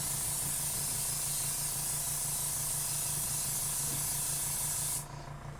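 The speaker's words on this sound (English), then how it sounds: "your airbrush off of your project so you don't get splatters all over it." An airbrush sprays craft paint onto a tumbler for a galaxy design, giving a loud, steady hiss that runs unbroken for about five seconds and then cuts off.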